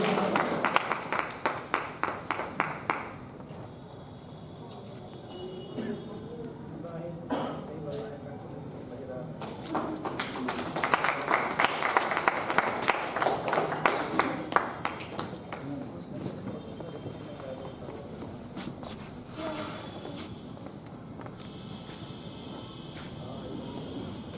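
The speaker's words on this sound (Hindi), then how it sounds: "एक जोरदार तालियां" Sustained applause and clapping from a crowd at a play, rising and falling over about twenty seconds, with voices mixed in beneath.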